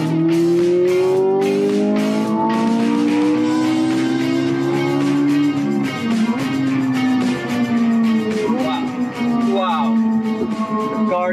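A Ferrari 458 Italia accelerates hard, its loud engine note climbing in steady sweeps and then dropping as it downshifts from seventh to fourth gear, then pulling again, close and continuous throughout.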